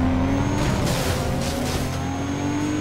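A Nissan Skyline's engine roaring in Need for Speed: Carbon Redux, a loud, steady, high-revving drone with sustained tonal whine and slight pitch shifts, close and continuous throughout.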